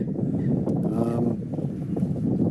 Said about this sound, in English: a little bit windy, hope it's not going to be too distracting